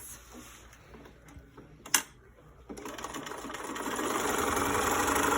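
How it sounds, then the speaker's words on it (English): Close sewing machine stitching a 1/4 inch curved seam on a fabric mask: after quiet handling and a brief click, the motor starts and runs in a steady, rising whir of rapid stitches. "you're going to sew on this curved part with a 1/4 inch seam like this"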